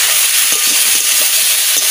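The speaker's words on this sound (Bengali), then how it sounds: "শুকনো লঙ্কা দিয়ে দিচ্ছি, তেজপাতা দিয়ে দিচ্ছি, কলা দিয়ে দিচ্ছি," Dried chilli, bay leaf and banana frying in hot oil, a steady bright sizzle with crackling pops and stirring scrapes, close and loud, with no talk.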